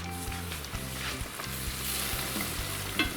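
Lamb pilaf frying in a kazan is stirred, giving a steady close sizzle with scraping stir strokes and a low rumbling hum underneath, no voices.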